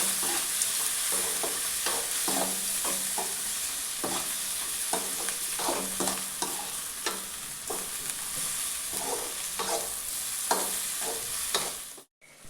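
Dried fish gravy with chili powder sautéing in a pan, a continuous close sizzle broken by rhythmic stirring scrapes, ending abruptly, no voices.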